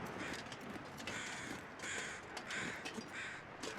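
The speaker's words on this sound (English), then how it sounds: "are these crows going on about" Crows caw repeatedly in the snowy wilderness of The Long Dark, harsh overlapping calls in irregular bursts over steady wind-like ambience, moderately close and fairly loud.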